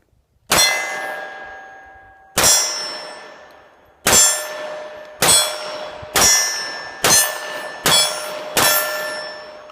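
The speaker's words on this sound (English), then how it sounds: "put a magazine through and see how she rolls. All right, got my steel target that I usually use." A CZ 27 pistol chambered in .32 fires a magazine at a steel target: eight sharp, ringing metallic clangs with long decaying tones, spaced unevenly about a second apart, loud and close, with no talking.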